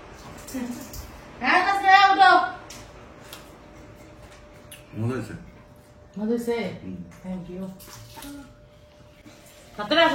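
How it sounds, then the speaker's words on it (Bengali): Hands are washed under running water in a home: a soft, steady water wash runs beneath a child's and adults' voices, which stand out over it. "তোমার হাত ধুতে এতক্ষণ লাগে?"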